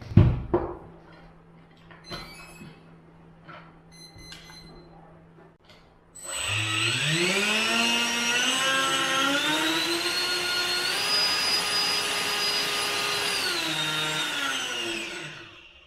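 A Dynam 70 mm electric ducted fan on a 3S battery kicks in after about six seconds, spooling up to a loud, steady high-pitched whine with strong tonal harmonics that hold through a thrust test, easing briefly before winding down at the end.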